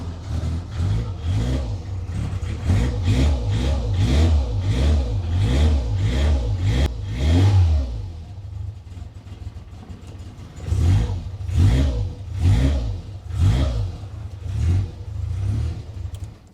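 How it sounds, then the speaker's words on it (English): A Lancia A112 Abarth, just repaired after a leaking fuel tank, starts and revs with loud, rhythmic mid-pitched engine pulses. It drops back to a quieter idle midway, then revs up again in several repeated bursts. "And then we're going to start the car up and see if it works and if it's leak free down here."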